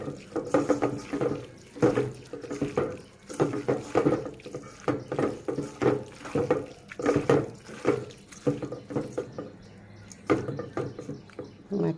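Water from a tap runs and splashes steadily into a sink or pot while a cook prepares a Bengali dish of taro stolons with small fish, a continuous close wash with brief breaks and faint voice underneath.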